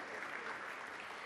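Audience applause at an awards ceremony in Udine for Cinema Zero, a steady dense wash of clapping held at an even, moderate level for the whole short stretch.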